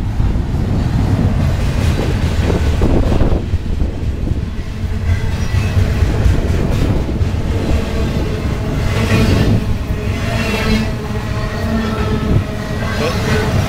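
A train rumbles past close by, a loud continuous roar with rattling wheels that swells and stays heavy throughout.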